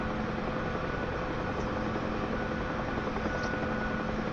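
UH-1 Huey helicopter in a flight video game, hovering low near the ground as a steady, dense broadband rotor and engine roar that holds at an even level throughout, with no talking.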